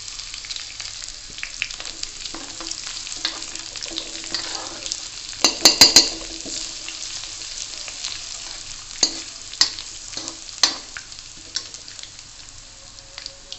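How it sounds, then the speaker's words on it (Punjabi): Garlic paste frying in a pan for choliya kadhi, a steady soft sizzle with a few sharper crackles and clinks of a stirring spoon against the pan, with no voices. "ਇਹਦੇ ਵਿੱਚ ਪਾਵਾਂਗੇ ਜੀ ਆਪਾਂ ਲਸਣ ਦਾ ਪੇਸਟ"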